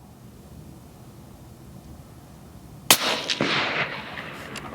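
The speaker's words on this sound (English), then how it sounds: "It's definitely different shooting that when it goes off so fast because the trigger's so light." A single sharp rifle shot from a Ruger Precision Rifle fitted with a light TriggerTech trigger cracks out loudly after a quiet outdoor lull, followed by a rolling echo that trails off over the next second.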